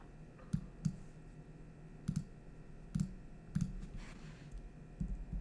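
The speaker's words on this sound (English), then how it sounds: "We are going to click buy on here though" Mouse clicks on a trading platform's buy button, several sharp close clicks spaced irregularly over quiet room noise, some in quick pairs.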